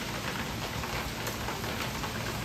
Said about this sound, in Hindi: अभी देखो अच्छी बारिश शुरू हो रही है, मज़ा आ रहा है, मौसम अच्छा हो गया है।